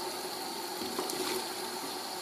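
Water sloshing and running as toilet cistern parts are rinsed in a water bath after descaling with hydrochloric acid, a steady close wash of liquid throughout.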